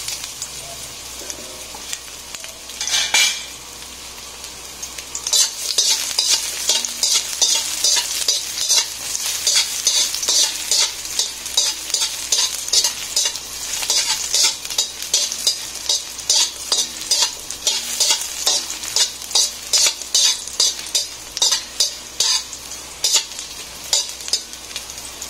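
Ginger sautéing in a small amount of oil for ginataang langka, a steady crackling sizzle with frequent stirring scrapes, close and continuous after a brief quieter start.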